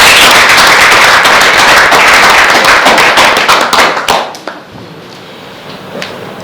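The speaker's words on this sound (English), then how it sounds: "I think you deserve a bigger round of applause for yourself" Applause for a group of elite referees at a football federation capacity-building event, dense and loud clapping from a room that fades out after about four seconds, leaving near silence.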